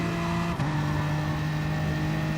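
A race car engine in a sim racing game holds a steady, loud drone with a brief dip as the throttle is lifted slightly. The steady note returns at once, continuous throughout with no voices.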